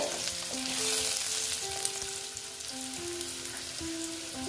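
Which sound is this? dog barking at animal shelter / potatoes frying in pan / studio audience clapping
potatoes frying in pan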